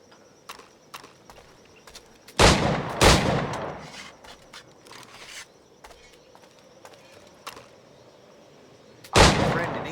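Firearm shots in the Assassin's Creed IV video game, two loud close booming shots in quick succession, then a lone third blast after a stretch of quiet rustling and footsteps.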